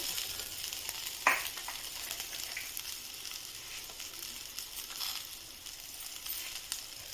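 Ingredients frying in oil in a pan for a home-cooked brinjal gravy, a steady soft sizzle with faint stirring clicks and one sharp scrape near the start, no voices.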